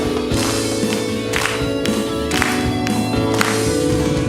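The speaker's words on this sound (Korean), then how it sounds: "이 시간 함께 박수 치면서 우리 영광의 주님을 찬양하기 원합니다" A church congregation at a Sunday morning service clapping in rhythm along with the closing hymn, steady beats over sustained music and singing throughout.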